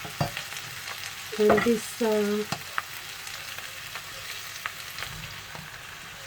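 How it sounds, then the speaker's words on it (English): Fresh green beans hit a hot pan and sizzle with a steady frying hiss and a few stirring scrapes, while a voice speaks briefly over the cooking. "And then I'm gonna add these green beans."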